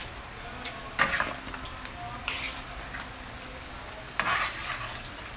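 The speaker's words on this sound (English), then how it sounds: "oil is splattering at this stage" Salmon cakes fry in hot, splattering oil, with a steady soft sizzle broken by louder bursts of spatter near the start, middle and end.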